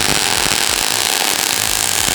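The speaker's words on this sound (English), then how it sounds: "I'm just going to do some welds down the back and down the front just to strengthen it a bit." Welding on the body of an E36 coupe during a V8 swap, adding seams front and back to strengthen bent metal: a loud, steady, crackling buzz that runs unbroken throughout, with no talking.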